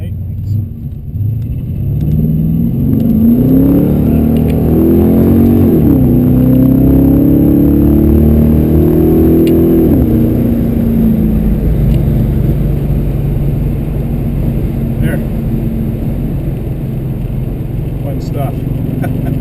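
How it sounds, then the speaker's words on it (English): A 1983 Pontiac Parisienne with 3.42 gears accelerates from inside the cabin, its engine droning and rising in pitch before settling into a steady cruising hum on the road. "let's wait for a car to go by here and we'll get her going here"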